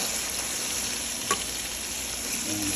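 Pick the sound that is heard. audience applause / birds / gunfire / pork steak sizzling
pork steak sizzling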